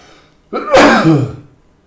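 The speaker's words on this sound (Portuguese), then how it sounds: "Perdão pelo espirro aí, estamos ao vivo." A single sharp sneeze bursts out close by after a moment of quiet, loud and breathy, trailing off within about a second.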